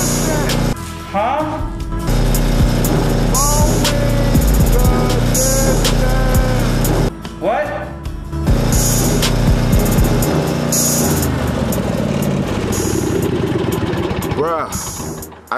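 A lawn mower engine drones loudly and steadily through the whole stretch, briefly cutting out twice, while voices shout over it.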